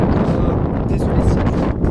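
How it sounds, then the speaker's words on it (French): Wind buffets a microphone outdoors, a steady low rumbling roar with gusty fluctuations filling the whole short stretch, loud and close. "vous allez peut-être entendre les bruits de vent"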